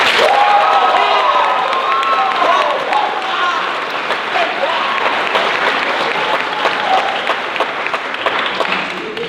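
Dense, loud audience applause with some cheering and whoops from a crowd at an improv comedy show, sustained throughout with voices shouting over it.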